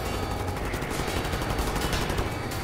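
Sustained gunfire from the video game Wolfenstein: The New Order, a dense run of shots in steady rhythm, loud and close, heard alone without speech.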